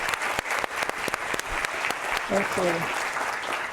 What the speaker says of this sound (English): I'd like to just take a moment and have a round of applause for these amazing scholars